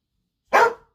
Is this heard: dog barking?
yes